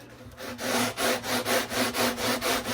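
Rhythmic back-and-forth rubbing of a sanding block on the metal frets of a Gibson guitar, about eight even strokes, close and fairly loud with a gritty scratching texture.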